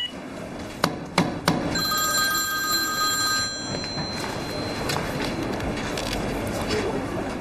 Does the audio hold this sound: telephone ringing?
yes